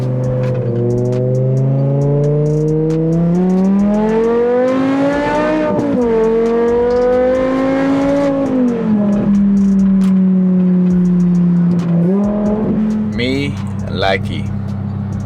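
A BMW E60 M5's engine drones up and down through the gears, revving and shifting repeatedly from inside the cabin, with a voice briefly audible near the end.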